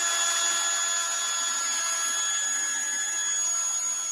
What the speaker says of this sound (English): Run the drill the right way